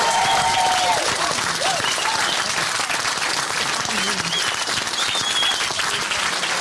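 Noisy crowd at the Liberal camp awaiting Rockingham by-election results, with loud clapping, cheering and overlapping voices filling the room continuously, and a chatter of people talking throughout.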